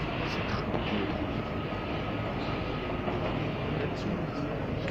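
A Paris Métro Line 12 MF67 train at a station, a continuous rumbling roar of rolling stock with faint metallic squeals; a voice is heard faintly under the noise.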